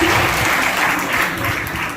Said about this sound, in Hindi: सर के लिए एक बार जोरदार तालियां दोबारा से हो जाए